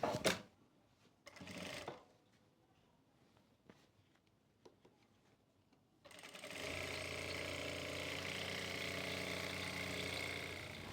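A sewing machine stitching trouser fabric in short bursts, then a long steady run of close, even motor whirr after a quiet stretch of faint handling sounds.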